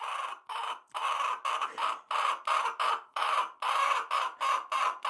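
A pet hen perched on her owner's shoulder screeches over and over, about a dozen harsh, raspy bursts in a quick uneven rhythm, loud and very close.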